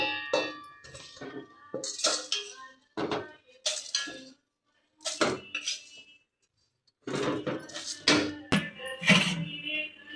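Roasted dal is scooped out of a metal pan in a home kitchen, with close, sharp metallic clangs and scrapes of a spoon against the pan in irregular bursts separated by brief pauses.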